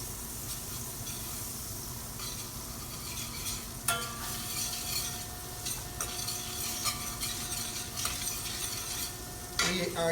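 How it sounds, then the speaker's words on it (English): A little butter melts in a frying pan with a quiet, steady sizzle and hiss, punctuated by a few light clinks and stirring scrapes, with no voices. "Add a little butter to your pan."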